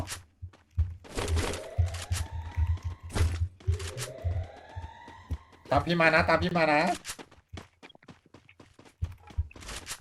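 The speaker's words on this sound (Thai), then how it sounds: "เสียงเท้าเสียงเท้าเสียงเท้าใครเนี่ย" Character footsteps in the Garena Free Fire mobile game sound as soft, quick taps in short runs, faint beneath a girl's high-pitched chatter and a voice, with game effects rising and swooping in between.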